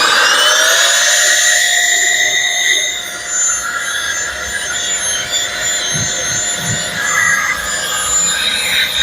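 A Balzano Tornado cordless vacuum cleaner runs loud and close while cleaning a car, a continuous whining motor drone with steady high tones and some shifting rumble as it moves over the surfaces.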